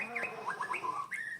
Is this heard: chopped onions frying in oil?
no